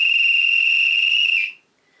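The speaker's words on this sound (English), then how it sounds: "He took the king's secret whistle from its secret hook. He blew a long, low blast down the king's back secret stairway." A single loud, steady whistle blast sustains for about a second and a half, then cuts off sharply into silence, with a breathy hiss around the tone.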